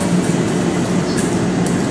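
An LRT light rail train rumbles past in traffic at Baclaran, Manila, a steady, loud, continuous low roar with faint higher hiss throughout, no pauses.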